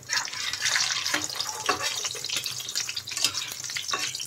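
Mughlai paratha being laid into hot oil in a frying pan, a steady broad sizzle with scattered crackles and small pops, close and even throughout, no speech.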